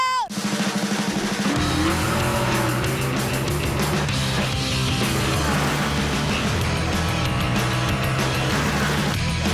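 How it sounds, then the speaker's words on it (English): Race cars tied to Sonic and All-Stars Racing Transformed roar past at Texas Motor Speedway, loud continuous engine noise with whining pitch sweeps and tire squeal, dense and close for the whole stretch, with some crowd or voice sound mixed in. "Behind me is Danica Patrick's custom Sonic and All-Stars Racing transformed car."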